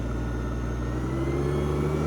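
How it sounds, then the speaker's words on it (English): A farm tractor engine runs steadily at close range and rises slightly in pitch as it is revved during potato planting, a continuous loud drone with no talking. "Rev up the tractor. You're not high enough in RPM."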